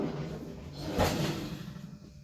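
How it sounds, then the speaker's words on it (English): A kitchen spice drawer slides open with a short thud and rattle near the middle, set against a quiet room background with no talking. "Now, I'm going to go into my drawer"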